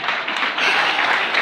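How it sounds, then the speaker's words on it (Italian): Audience applause at an Italian cabaret comedy show, a dense, steady wash of many hands clapping that holds evenly and swells slightly midway, with no voices on top. "Un applauso alla signora che è bellissima"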